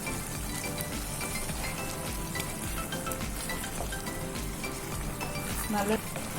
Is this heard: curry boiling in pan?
yes